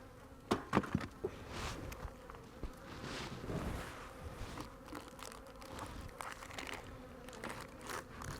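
Honeybees in a combined nuc hive buzz in a steady close drone, with a few brief clicks and knocks near the start and faint rustling beneath.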